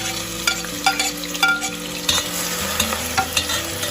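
Chopped onion going into hot oil in a pan for mutton curry, close sizzling with rhythmic stirring and scraping knocks of a spoon against the pan.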